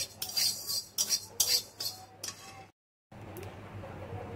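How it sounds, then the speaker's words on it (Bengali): Coriander seeds being stirred by hand in a dry pan, giving a run of close scraping, rattling clinks in quick bursts, then a brief pause before softer continuous sizzle-like rustling. "দেখো ধনেটাও শুকনো খোলায় নেড়ে নিয়ে নিচ্ছি।"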